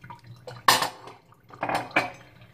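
Dishes and cutlery being washed at a sink with homemade soap made from used olive oil: clattering clinks of plates and utensils in two clear bursts, close and fairly loud, with faint water in between and no talk.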